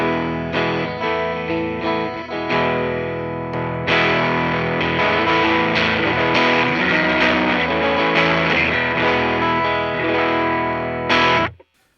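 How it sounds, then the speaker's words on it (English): Electric guitar driven through stacked distortion pedals, a broadcast-style boost feeding further drive, plays loud, thick sustained chords and riffs for about twelve seconds before cutting off abruptly at the end. "supposed to be a pedal that just kind of makes it sound like your amp, just louder and more distorted"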